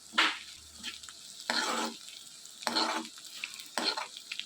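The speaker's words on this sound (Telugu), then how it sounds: "వేపుకోవాలి చూసారు కదా కాకరకాయ ముక్కలన్నీ బాగా మక్కిపోయినాయి" Bitter gourd pieces fry in a pan, with a soft continuous sizzle broken by several bursts of stirring and scraping at a steady pace, close by.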